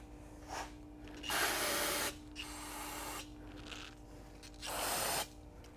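Brake parts cleaner hisses in short sprays into a junkyard Porsche 914 engine, three or four separate bursts of close hissing over a faint steady hum.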